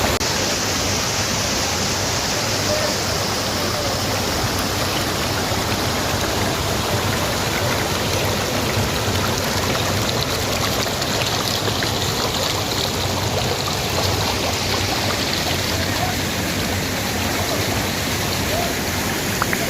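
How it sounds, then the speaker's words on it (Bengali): A small mountain waterfall and stream in Bijanbari, Darjeeling rushes in a dense, continuous broadband roar, close and loud throughout with no pauses. "ছোট ঝর্ণাটা, সবাই এখন ফটো সেশনে ব্যস্ত।"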